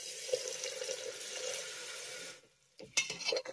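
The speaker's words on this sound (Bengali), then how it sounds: "আর এবার আমি কষিয়ে নেওয়া মশলার ভিতরে দিয়ে দেবো হাফ কাপের মতো জল।" Half a cup of water is poured into a sizzling pan of sautéed spice paste. A steady frying hiss runs, then breaks off into short splashing, bubbling bursts as the water hits, with no talk.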